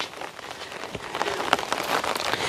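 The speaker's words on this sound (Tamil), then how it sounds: "இப்போ கூட மழை தூரிக்கொண்டு இருக்கு மெது மெதுவாக" Light rain drizzles steadily outdoors in Jaffna after heavy morning rain, a soft, even patter of drops on surfaces with scattered slightly louder taps, with no talk.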